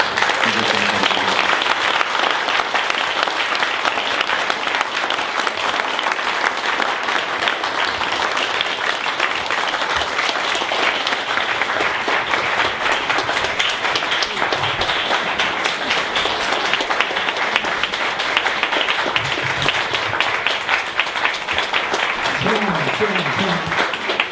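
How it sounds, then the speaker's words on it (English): Sustained audience applause and clapping for Sifu at a school picnic, a dense, steady crowd ovation lasting the whole stretch, with faint voices underneath. "you all should give Sifu a round of applause"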